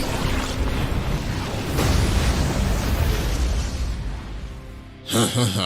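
A cartoon cannon blast effect in an Egyptian comedy parody of Jujutsu Kaisen roars as a loud, sustained rumbling explosion for several seconds, followed by a short, sharp burst.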